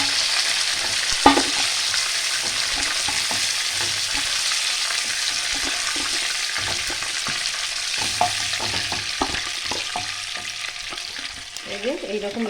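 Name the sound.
fish frying in a pan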